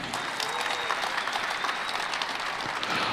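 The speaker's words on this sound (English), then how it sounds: "Another big round of applause, please." Sustained audience applause at the Barrett-Jackson Scottsdale collector car auction, a dense even wash of clapping from a large crowd that holds steady throughout.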